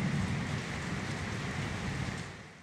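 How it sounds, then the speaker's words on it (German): Steady rain pours down during a rainy arrival in Turkey, a dense, even hiss that holds constant before easing slightly at the end, with no voices. "bis der Regen weniger wird."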